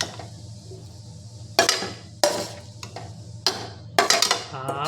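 Cucumber chutney seasoned with mustard, tamarind and green chillies is scooped from a vessel with a spoon, giving a few distinct metallic clinks and scrapes between quieter pauses.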